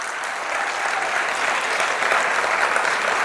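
Steady audience applause at a business event in Kolkata, a dense, even wash of many hands clapping at close range without pause.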